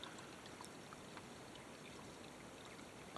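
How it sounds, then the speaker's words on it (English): Spring water pours steadily out of a hillside, a continuous low rushing trickle with no breaks, faint and even throughout with no voices. "That's the water coming right out of the hill."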